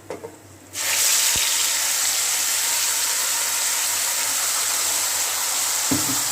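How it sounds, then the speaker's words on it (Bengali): Spice paste dropping into hot oil already holding whole garam masala and bay leaf, bursting into a loud, dense, continuous sizzle after a quiet moment, with a couple of faint utensil knocks, close with no talking. "গোটা গরম মশলা দিয়ে দিচ্ছি, তেজপাতা, এবার আমি যে বাটা মশলাটা রয়েছে ওটা দিয়ে দেবো।"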